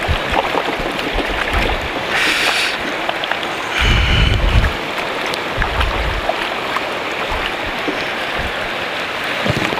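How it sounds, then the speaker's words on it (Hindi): A hill river flows steadily, a loud continuous rushing wash heard up close, with occasional low wind buffeting on the microphone and no talking. "यहाँ से नदी के पानी को ज़रा टच करते हैं"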